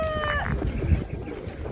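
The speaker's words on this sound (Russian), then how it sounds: "Курочки." Hens clucking among a busy bird market crowd, soft overlapping clucks and fowl calls close by under a steady din of background chatter and market noise.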